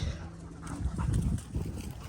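A dog pants and snuffles close by near bird breeder cages, with low rustling and a faint whimper over a steady background.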